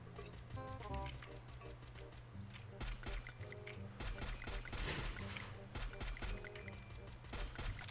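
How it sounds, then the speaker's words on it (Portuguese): Gunfire in the Free Fire battle royale game, rapid bursts of shots and clattering impacts mixed with game music, with a player talking over the action. "tem outro cara atirando aqui atrás aqui"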